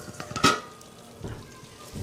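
Eggplant masala gravy sautés in oil in a pan, giving a soft sizzle with a few clinks and scrapes from stirring. The sound is close and there is no talking.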